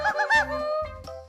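Cartoon chickens cluck in a quick run of short, nasal, honk-like calls, loud and close, with a brief pause before a last squawk.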